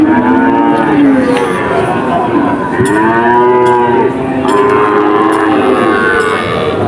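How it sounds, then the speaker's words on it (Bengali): Cattle low repeatedly at a busy cattle market in Chuknagar, Khulna, several loud overlapping moos from nearby animals filling the scene over steady crowd murmur. "ওইখানে কতগুলো গরু দেখা যাচ্ছে"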